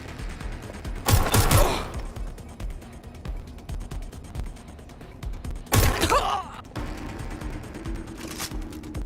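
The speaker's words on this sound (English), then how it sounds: "Suspect is shooting!" Gunfire from a suspect in the video game Watch Dogs Legion: two sharp bursts of shots about five seconds apart, loud and close over a low, steady game ambience.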